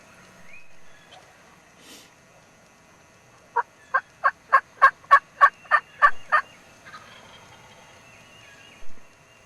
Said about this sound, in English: We just had a bird gobble down here a couple hundred yards.